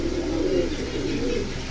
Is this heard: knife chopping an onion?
no